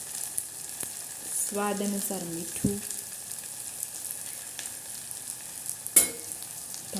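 Okra frying in a pan with spices gives a steady sizzle under quiet stirring, with brief scraping and a short spoken phrase over it.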